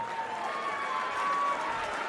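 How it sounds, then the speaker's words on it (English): Applause from the crowd at a live darts championship final, a steady mid-level wash of clapping sustained throughout with no clear voices over it. "a massive round of applause for your finalist from the Netherlands, Eileen de Graaf"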